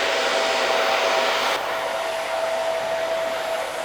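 A hair dryer fitted with a diffuser blows steadily while drying medium-length curly, wavy hair upward, a loud continuous whoosh with a faint whine that drops slightly in level partway through and runs on without talk.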